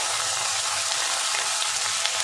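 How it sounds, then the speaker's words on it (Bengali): Garlic and ginger paste fry in a pan with chopped onion, giving a steady, dense sizzle that holds evenly throughout with no talking. "একটু 2 মিনিট ভেজে নেব। কাঁচা গন্ধ যতক্ষণ থাকে ততক্ষণ ভেজে নেব।"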